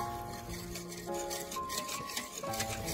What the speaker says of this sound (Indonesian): aduk-aduk kembali, dan tuang air sedikit demi sedikit, aduk hingga tercampur rata